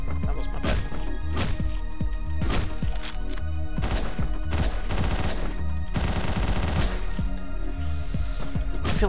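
Loud, dense gunfire from the top-down shooter Hotline Miami, rapid bursts of shots and impacts firing over pounding game music, with a harsh noisy blast around the middle.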